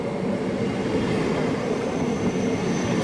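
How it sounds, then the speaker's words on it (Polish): A train crossing the Alps rumbles steadily and loudly nearby, a continuous broad roar of wheels and carriages with no pauses. "Jedzie pociąg z daleka, zaraz na nas zaczeka."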